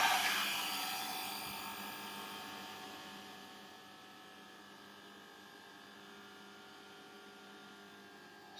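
An electric vacuum pump evacuates a vacuum chamber half filled with water, a steady mechanical hum that starts louder and gradually settles to a quieter, constant drone.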